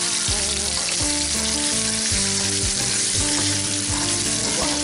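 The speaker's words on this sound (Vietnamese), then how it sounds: "Đậu đó, mình sẽ bỏ thử vô chiên sơ trước nha các bạn." Tofu pieces fried in a pan give off a loud, steady sizzle throughout, with occasional scraping and clinking strokes as they are stirred.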